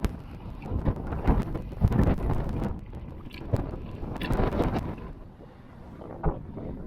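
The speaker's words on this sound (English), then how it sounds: "Wind is still blowing, just yeah, you hear?" Strong gusting wind during a sandstorm on Fuerteventura buffets the microphone with loud, surging roars that ease briefly before rising again, with no talking.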